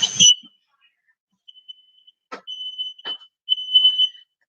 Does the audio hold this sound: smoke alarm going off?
yes